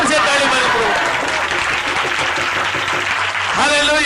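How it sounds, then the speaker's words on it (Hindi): A church congregation claps loudly and continuously in a dense wash of applause, with voices mixed in. "बोलो यीशु मसीह को जोर से ताली मारो प्रभु।"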